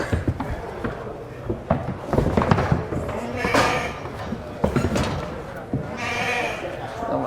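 Sheep bleat during a shearing demonstration at a ploughing show, with several bleats mixed under steady close talk and crowd noise.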